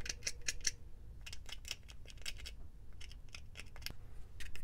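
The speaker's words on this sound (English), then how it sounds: "So I can kind of scrape this stuff in here just to make sure." Short, faint scrapes of a tool against a metal fitting to clear burrs, a quiet irregular series of brief scratchy strokes close by on a workbench for a gas can filling station, with no talking.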